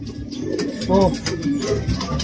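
A pigeon coos softly nearby, a couple of low throaty rolling calls over a steady background hum.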